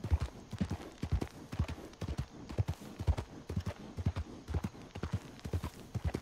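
Horse hooves clip-clop in Rift, a steady, regular walking gait with soft thuds, close and fairly quiet, with no voices over them.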